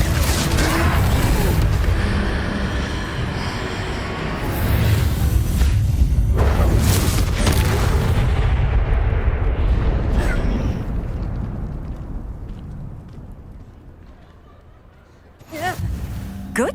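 A Confringo blasting spell in Hogwarts Legacy bursts in loud, heavy booms during a troll fight, swelling and rumbling before fading to a quieter tail, then a sharp final impact near the end.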